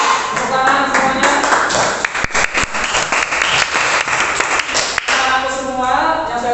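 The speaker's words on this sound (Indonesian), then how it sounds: "Tepuk tangan semuanya." Students clap together in a classroom during an Islamic religious education lesson, a dense burst of applause that runs steadily and loudly through the clip with a few sharper claps standing out.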